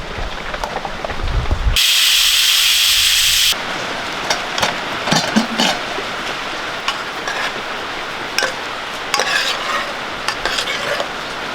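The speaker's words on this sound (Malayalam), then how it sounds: "അത് ജാറിലേക്ക് ഇട്ട് കൊടുക്കാം ഒരു മൂന്ന് പച്ചമുളക് നല്ല വളർന്ന് അരച്ചെടുക്കാം" A mixer grinder runs in a short, loud burst with a high whine as it grinds coconut and green chillies in a jar. Kitchen stirring and scraping noises follow.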